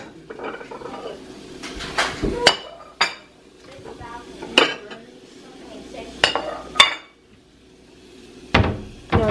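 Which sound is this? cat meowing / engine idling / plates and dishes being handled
plates and dishes being handled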